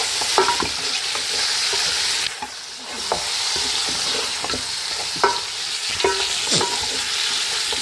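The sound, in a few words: stirring mutton chaanp frying in karahi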